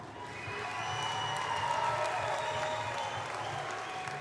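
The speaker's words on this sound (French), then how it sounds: "Allez, on l'applaudit bien fort" Audience applause at the Miss Wallis & Futuna 2020 beauty pageant gala, honoring the sponsor presenting the most photogenic prize: a steady wash of clapping and light cheering that swells in and holds at moderate level from a crowd in the hall.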